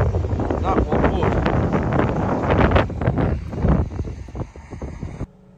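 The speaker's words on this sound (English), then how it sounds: "when it's windy like this" Strong wind roars and buffets across an open farm field during seed drilling, a loud, continuous gusting rush that swells and dips for several seconds before cutting off abruptly.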